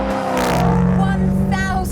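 A 1,000 bhp supercharged 5.4-litre V8 Ford Mustang engine revs and drones steadily at close range, its pitch rising and falling, with a voice talking over it.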